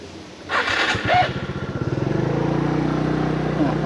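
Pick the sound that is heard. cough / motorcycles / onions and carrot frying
motorcycles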